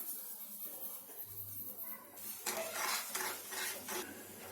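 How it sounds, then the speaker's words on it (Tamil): Chana dal halwa with milk and sugar cooked in a pan, quiet at first, then a few clattering spoon scrapes against the pan followed by soft stirring and faint sizzling, close and fairly quiet. "சர்க்கரை கரைஞ்சி இது நல்லா கெட்டியாகி வர வரைக்கும் நல்லா கிண்டிகிட்டே இருங்க கைவிடாமல்"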